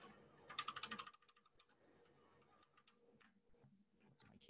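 Fingers type rapidly on a computer keyboard, a quick cluster of close, crisp key clicks followed by sparser scattered taps, all quiet in a still room.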